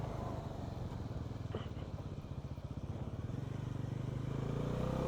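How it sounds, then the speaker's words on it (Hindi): A Bajaj NS400Z motorcycle riding on a highway, its engine droning with a steady pulsing beat and rushing wind noise, continuous and close as the bike cruises. "बाइक चल रही है भाई"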